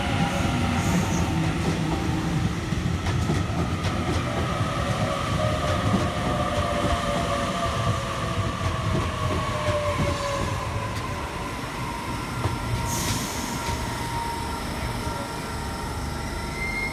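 Suburban passenger train carriages rolling past on the rail line near Granville–Clyde, with a loud continuous rumble, rhythmic wheel clatter and a faint squeal, steady throughout and close by.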